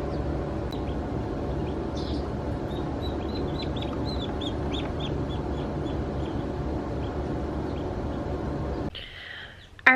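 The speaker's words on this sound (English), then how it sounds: "the sound of that peeping will encourage the others" Newly hatched chicks peep in an incubator, with short high chirps in quick bursts over a steady mechanical hum that drops away near the end.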